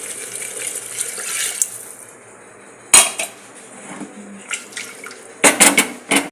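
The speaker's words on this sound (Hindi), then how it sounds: "इसमें डालेंगे हाफ ग्लास पानी" Half a glass of water is poured into a pot of vegetables cooking over seasoned spices in a home kitchen, with sizzling splashes and clinks of utensils and cookware in short bursts.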